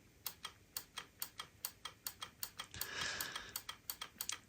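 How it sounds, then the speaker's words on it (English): Mute buttons on a vintage ADT mixing console clicking in a steady, evenly spaced series of sharp, close, fairly quiet clicks, with a brief hiss of background noise midway. "you only hear the button clicking"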